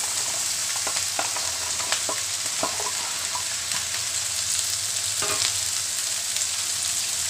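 Cut okra (bhindi) sizzles in hot oil with a loud, even frying hiss and a few soft clinks of stirring, without any voices.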